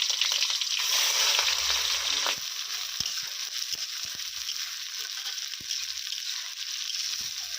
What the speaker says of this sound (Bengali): তেল গরম হয়ে গেছে প্রথমে তেলের মধ্যে দিয়ে দেব এরপর দিয়ে দেবো কাঁচা লঙ্কা এরপর দিয়ে দেবো পেঁয়াজ কুচি